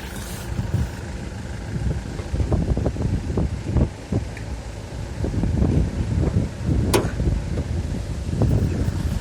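An Iveco Daily van's diesel engine idles with a steady, low rumble, with some wind buffeting the microphone. No one speaks.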